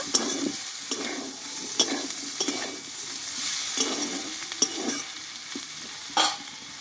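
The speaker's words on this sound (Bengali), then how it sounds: "আবারও আমি কিছুক্ষণ মতো কষিয়ে নেব" Spiced okra curry with a little sugar fries in a pan while a spatula stirs it, producing an ongoing sizzle broken by repeated scraping strokes and clinks at an irregular rhythm.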